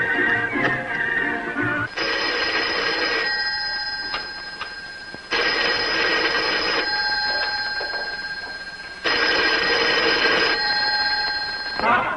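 An old telephone bell rings in a 1952 film, three long electric trills separated by short pauses, steady and fairly loud with no talking.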